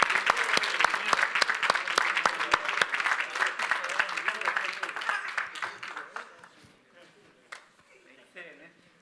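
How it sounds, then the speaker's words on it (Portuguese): Church congregation applauding during a Portuguese-language worship service after a deacon's ordination, sharp individual claps loud at first, then thinning and fading out, with voices murmuring beneath. "Nós podemos aplaudir ao Senhor e louvar."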